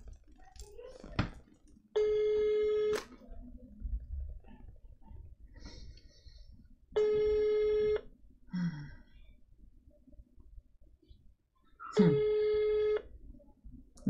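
An unanswered telephone call rings three times in even, spaced bursts, each a bright electronic ring lasting about a second, with quiet background noise and murmurs between the rings.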